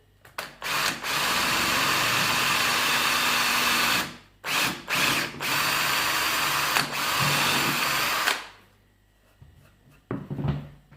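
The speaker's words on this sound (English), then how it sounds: "And again you can drill the hole." A power drill fitted with a Parkside countersink bit whines steadily through a hole, running in two long sustained bursts separated by brief stops and restarts, close and fairly loud, then winding down.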